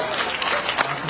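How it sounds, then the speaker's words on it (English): Audience at an awards dinner for a scholarship fundraiser claps in a short burst of steady applause filling the room. "How about another round of applause for Mr."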